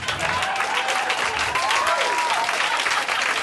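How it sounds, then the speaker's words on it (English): A comedy show audience applauds in a steady, full wash of clapping, with a voice briefly audible over it. "Don't clap for them"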